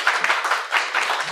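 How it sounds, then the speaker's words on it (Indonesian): Brief burst of applause from an audience at an Indonesian press event for the e-commerce company Blibli, a short ripple of clapping rising and falling in a couple of waves. "Jadi mungkin tepuk tangan dulu buat rekan-rekan media."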